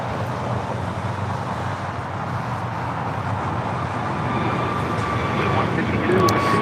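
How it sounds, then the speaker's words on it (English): An Emirates Airbus A380 taxis toward the gates at LAX with a broad, steady jet-engine roar that swells slightly toward the end, mixed with airport background noise. "Emirates A380 Super now making its way to the gates"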